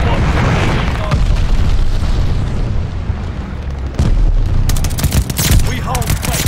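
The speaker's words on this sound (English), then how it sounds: "Got an enemy glide bomb on the way." Heavy glide bomb blast and rolling battlefield explosions amid constant gunfire in Call of Duty: Vanguard multiplayer Domination on the Oasis map, loud and dense, with several booming impacts over sustained fusillade.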